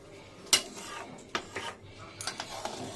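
Coriander chicken being stirred in a pan, a few sharp metallic clinks and scrapes of a utensil against the pan at irregular intervals, close and fairly clear.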